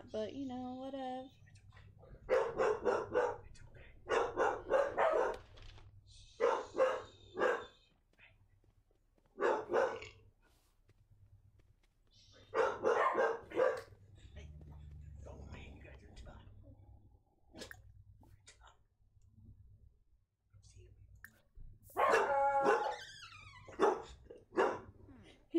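A pet dog barks in short, scattered bursts close by, mixed in with people chatting nearby.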